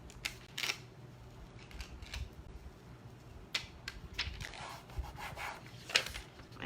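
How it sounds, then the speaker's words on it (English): A clear transfer sheet is rubbed onto a chalkboard sign with soft, faint scraping strokes in an irregular rhythm, and there is no talking. "just push it back down and start rubbing again."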